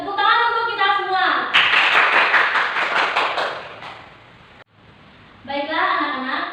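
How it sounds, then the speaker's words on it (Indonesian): Children in a primary school class clap together in a short burst of quick rhythmic claps. Voices speak just before and after it. "Tepuk tangan untuk kita semua"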